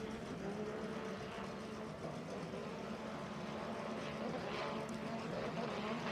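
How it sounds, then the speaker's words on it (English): A single-engine catamaran race boat at the Lake of the Ozarks Shootout on a 3/4 mile course gives off a constant broad roar, heard from a distance as a steady wash of engine and water noise. "this is a single engine catamaran"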